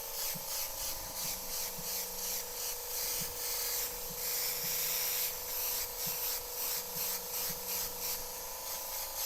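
Airbrush spraying paint onto a T-shirt in controlled strokes, a steady airy hiss that swells and fades in pulses over a constant compressor hum, with small clicks between passes.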